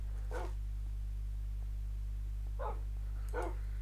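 Dogs in the Minecraft video game bark a few times, one short bark early and then two more close together near the end, set against a steady low hum.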